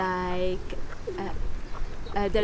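Pigeons cooing nearby in an outdoor animal area on Manoel Island, Malta, with a few soft repeated coos and other bird calls over low background noise.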